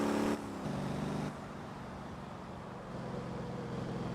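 A car in the driving game Motor Town hums along with a steady engine drone that changes pitch a few times as it shifts, heard up close with no talking.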